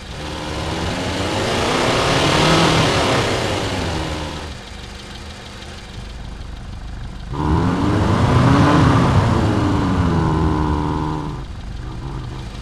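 Synthesized car engine from the Igniter granular engine plugin, with engine and exhaust mixed. Two sustained revving passes rise and fall in pitch, separated by a quieter idle-like stretch, loud and alone.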